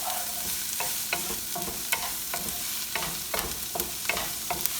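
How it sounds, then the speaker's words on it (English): Ginger and garlic brown in a pan with only a little oil, a soft continuous sizzle broken by repeated scraping stirs at an uneven rhythm, close up, with no talking. "now I'm browning along with the ginger, which will give the flavor"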